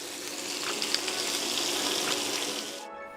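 Beef short ribs browning in a hot pan give a dense, steady sizzle close up, with faint crackles in the hiss before it cuts off abruptly near the end.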